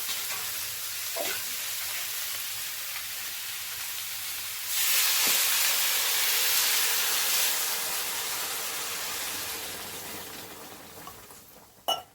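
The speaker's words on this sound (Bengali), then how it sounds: "এবার আমি জল দিয়ে দেবো" Water poured into a hot pan of fish curry, a steady simmering hiss that surges louder for a few seconds, then gradually fades, with a couple of faint clinks.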